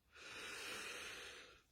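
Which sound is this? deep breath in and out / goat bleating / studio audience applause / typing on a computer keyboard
deep breath in and out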